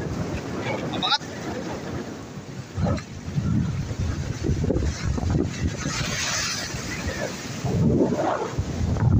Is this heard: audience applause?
no